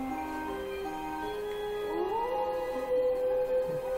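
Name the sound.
wolves howling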